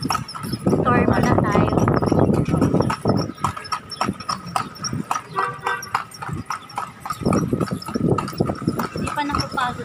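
A horse pulling a kalesa carriage through the walled city of Intramuros clip-clops in a steady rhythm close by, its hooves ringing on the street while passengers chat over them.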